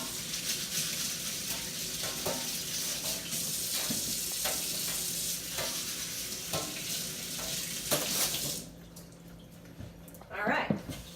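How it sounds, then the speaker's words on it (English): A chain scrubber rasps over ginger root under running water, a steady wet hiss with rhythmic scraping strokes, then the flow cuts off, leaving a few faint clinks and scrapes. "Then we make sure that we wash it really good. I have this little chain scrubber that I like,"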